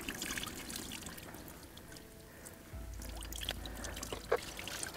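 Cold pond water splashes and trickles over a freshly caught carp during a February feeder fishing session at a fish pond, a steady low pour starting partway through, fairly close against soft outdoor background noise.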